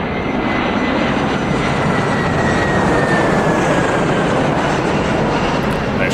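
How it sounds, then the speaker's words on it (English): A noisy fixed-wing plane passes overhead during a flight-simulator demonstration, a loud steady engine roar with a faint whining tone sliding slowly downward as it goes by, continuous for several seconds with no talking. "Just let that noisy plane go by."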